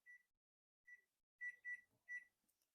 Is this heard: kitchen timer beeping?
yes